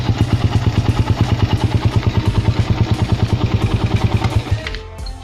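A pit bike engine fitted with a 28mm carburetor runs at a steady idle, a close, rapid thumping putter that cuts off near the end.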